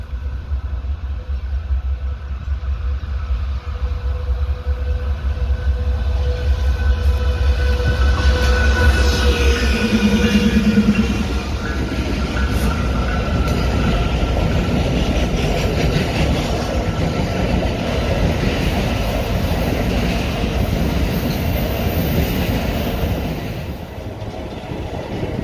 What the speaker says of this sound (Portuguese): olha o trem de Torete vazio